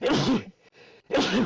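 A single sharp human sneeze with a short gasping intake, close and loud, followed by a brief quiet gap and then a second burst of voice or sneeze.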